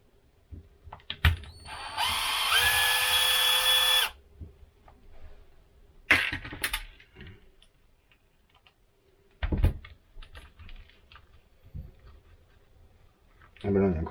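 A power tool works a stuck screw loose in short bursts, one long loud whirring run followed by several brief revving jolts and clicks, close up, with someone talking in between.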